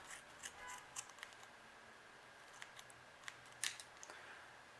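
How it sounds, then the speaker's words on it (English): Scissors snip through synthetic crochet hair while making a bob, a series of faint, crisp clicks and short cuts scattered irregularly over a quiet background. "I'm going to take my scissors and just cut"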